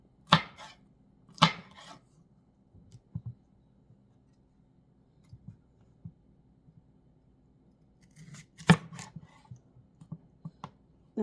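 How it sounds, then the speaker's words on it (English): A knife chopping red pepper on a board, sharp isolated thuds at irregular intervals with quiet gaps between, close and fairly loud. "cutting the red pepper"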